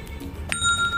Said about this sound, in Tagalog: So, hanapin natin yung bells.